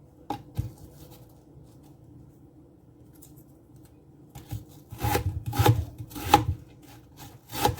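Onions and vegetables are cut into chunks on a board for an egg veggie stew, with sparse knife taps at first, then a denser run of firm chopping strokes, close and fairly quiet.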